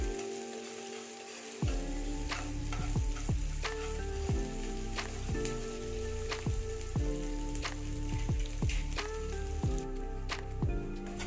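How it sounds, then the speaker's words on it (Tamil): Onions sauté in hot oil over a high flame for a buttermilk curry tempering, a dense, steady sizzle and crackle with repeated scraping stirs close by, continuing without talk. "இப்போ வந்து ஃப்ளேம் கொஞ்சம் அதிகமாக வச்சுட்டு வதக்கிக்கலாம்"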